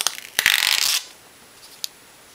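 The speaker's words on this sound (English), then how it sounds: "Being able to unwrap this thing. Taking all the plastic off." Crinkly plastic film peeled off a new Samsung Galaxy Tab: a sharp tug, then about half a second of dense crackling rustle close by, followed by quiet and one small crinkle.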